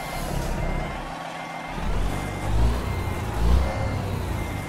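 A virtual truck in Euro Truck Simulator 2 backs a trailer with steady repeating reversing beeps over a low engine rumble, with a couple of heavier engine surges.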